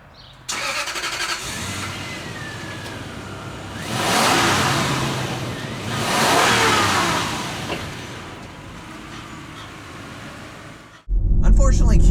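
A Toyota Land Cruiser engine revs and accelerates off-road in two strong surges, building and easing over several seconds before a sharp louder noise closes the run, with some faint talk in the background.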